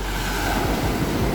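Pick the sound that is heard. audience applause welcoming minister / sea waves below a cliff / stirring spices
sea waves below a cliff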